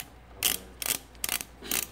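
A wrench turns a bolt loose on a GY6 scooter engine during a big bore kit install, with four short ratcheting rasps in a row, close and clear, no voices.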